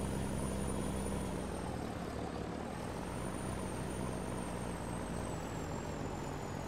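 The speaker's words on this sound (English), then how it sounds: "So when you go really fast, like I said, you throw the snow." Snow plow truck in Farming Simulator 19 throwing snow at high speed, a steady broadband rush of engine and spraying snow with a faint high whine, continuous and even throughout.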